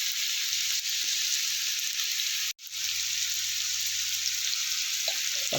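Chicken for Nellore chicken sukka fries in a pan with a steady, moderate sizzle, briefly cut off midway before resuming, with a few faint clinks.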